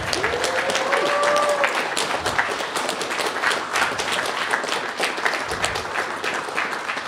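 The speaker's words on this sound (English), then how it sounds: "let's have one last round of applause for everybody" Audience applause at the finale of the RPG Limit Break 2024 speedrun event, a dense sustained clapping from a crowd lasting throughout, with a few cheers rising over it.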